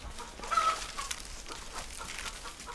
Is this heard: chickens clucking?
yes